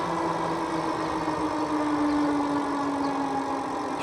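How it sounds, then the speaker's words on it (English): A 750 watt Aventon Aventure 3 fat tire e-bike climbs a short hill on throttle alone, its motor giving a steady, close whine that rises slightly in pitch over broad wind and tire rumble, with no talk. "Here's one more short hill, throttle only."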